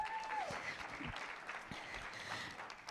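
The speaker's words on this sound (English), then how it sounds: "Let's give them a round of applause." Conference audience applauding as a panel is welcomed to the stage, a steady wash of clapping from a large crowd that holds for the whole stretch at moderate loudness.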